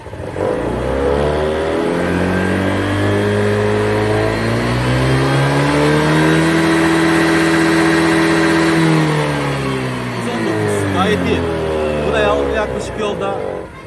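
A scooter engine on a test ride after variator service, a steady loud drone rising and then falling in pitch as it revs up and eases off, close and continuous.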